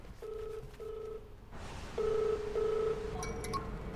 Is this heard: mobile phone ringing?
yes